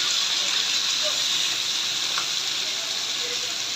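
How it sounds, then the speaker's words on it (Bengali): Sarputi fish fry in hot oil, a steady loud sizzle and hiss that holds evenly throughout with faint crackles, close by and without talk. "মাছ ভাজা হয়ে গেছে"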